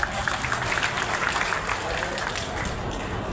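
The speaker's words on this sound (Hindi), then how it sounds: "ताली बजाओ, ऐसे मत बैठो कि जयंती है यार।" An audience at a commemorative gathering claps in a dense, lively patter that holds steady throughout, moderately loud, with some crowd noise mixed in.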